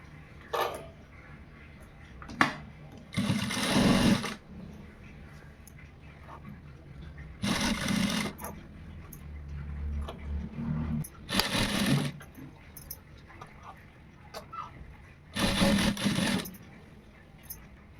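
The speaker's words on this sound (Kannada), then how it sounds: "ಈ ಮಧ್ಯಕ್ಕೇ ಸ್ಟಿಚ್ ಬಿಡಬೇಕು ಆ ರೀತಿ ಸ್ಟಿಚ್ ಮಾಡ್ಕೋಬೇಕು" An electric sewing machine stitching piping onto a blouse runs in four short, loud bursts of rapid whirring, separated by quieter pauses with fabric handling.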